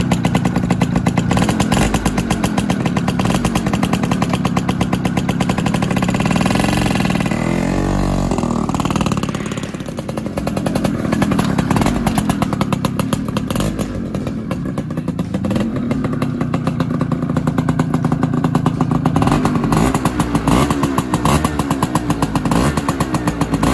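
A Zündapp KS 80 Sport moped engine runs loud and close for a long stretch, buzzing and clattering steadily as it is ridden, with rpm rising and dipping through gear changes and speed swings.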